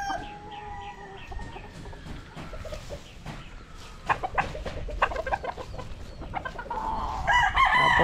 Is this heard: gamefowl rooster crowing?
yes